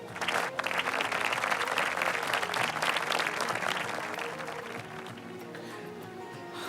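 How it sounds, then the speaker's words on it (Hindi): Studio audience of a Ramadan iftar television broadcast breaks into sustained, dense applause that stays loud for several seconds, then eases slightly while continuing, with music faintly underneath. "और इन सब के लिए तालियां होनी चाहिए।"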